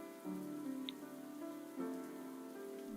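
Steady rain falling outdoors, a soft continuous patter over a low hum of game music, fairly quiet and unbroken.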